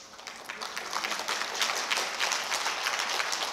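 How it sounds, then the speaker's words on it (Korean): Brief burst of audience clapping at a tea-culture lecture, a dense patter building over a few seconds and holding steady at moderate level. "다산 선생님한테 치는 박수로 알겠습니다."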